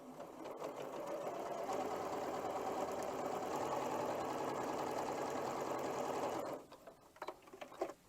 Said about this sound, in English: I'm now going to sew the dark to the pink and line those up and sew that.